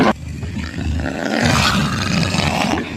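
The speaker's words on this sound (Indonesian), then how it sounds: "terdapat seekor jaguar betina menatap marah ke arahnya" A female jaguar in the jungle lets out a loud, close, sustained roar that swells and holds for about three seconds, coarse and rumbling throughout.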